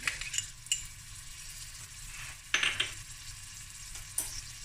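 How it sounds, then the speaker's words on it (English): Fried rice ingredients sizzle in a pan with butter and garlic for smoked snoek fried rice, a steady low crackle broken by a few sharp metallic clinks of utensils against the pan. "as that is sizzling away, I'm going to add a tablespoon of garlic"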